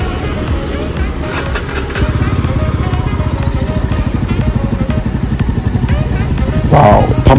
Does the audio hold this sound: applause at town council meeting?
no